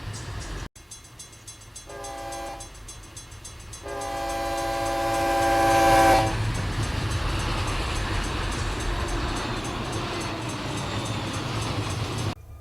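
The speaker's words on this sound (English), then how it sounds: "we have a BNSF train that's behind us, apparently" A BNSF freight train in the Run8 Train Simulator game passes close by, sounding its horn in two bursts, the second long and loud, then a steady rumble and rolling wheel noise that continues under the scene.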